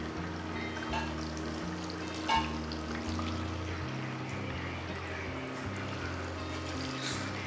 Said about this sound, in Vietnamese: Cái đậu chúng ta cắt mỏng như thế này, rán nó cũng rất là nhanh chín.